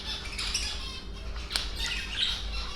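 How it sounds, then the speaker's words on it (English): Pet lovebirds squawking in a home finch-keeping setup, a run of shrill, harsh calls close by, with a sharper burst in the middle and more squawks near the end. "my lovebirds screaming as well"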